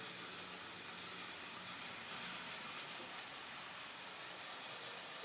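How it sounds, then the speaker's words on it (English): An express passenger locomotive on a Swiss model railway layout runs steadily, a faint, even rolling hum and hiss heard from a distance without pauses. "This is one of the express passenger locomotives in advertising livery, starting from Sarava station."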